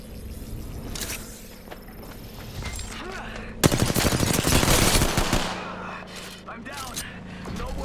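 Gunfire in the video game Apex Legends, rapid automatic bursts with a dense volley in the middle, heard among other game effects and players' talk.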